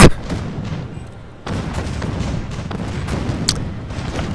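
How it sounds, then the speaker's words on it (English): Turret fire in the video game Spore: a dense, continuous barrage of booming game shots and impacts, loud and busy, with a brief lull about a second in before the fire resumes and keeps pounding steadily. "Everyone go after the turret! It's killing us!"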